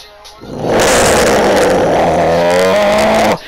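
A voice imitates a truck engine revving, a loud rough roar that rises in pitch over a few seconds before cutting off abruptly.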